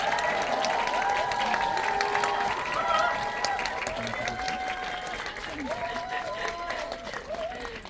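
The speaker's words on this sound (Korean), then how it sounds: "큰 박수로 맞아주시기 바랍니다" Audience applause, clapping and cheering, welcoming actors Yoo Hae-jin, Park Ji-hoon, Yoo Ji-tae and Kim Min and director Jang Hang-jun at a guest-visit screening in World Tower cinema hall 8, sustained and loud throughout.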